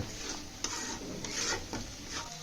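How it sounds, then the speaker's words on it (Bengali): Turmeric and chilli powder being stirred and fried in hot oil for a broiler chicken curry: a close, continuous sizzle broken by a few distinct scraping stirs, with no voices. "তেলের ভিতরে দিয়ে ভালোভাবে কষিয়ে নেব।"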